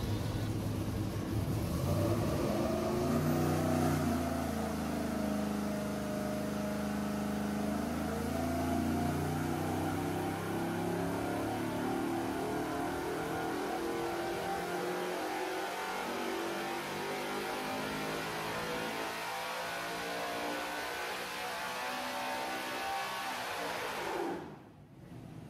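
A 5.3-liter LS V8 fitted with a Holley Lo-Ram intake revs up toward 7,500 RPM on a run, a loud sustained rising wail that holds near the top before dropping off abruptly at the end.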